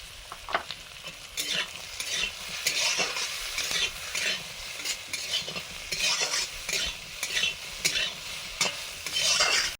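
Raw pumpkin frying with green chili, salt and turmeric, a continuous close sizzle punctuated by rhythmic spatula stirs and scrapes throughout.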